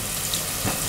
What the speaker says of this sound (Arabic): انا كده حطيت البصل لما السمنه سخنت اهو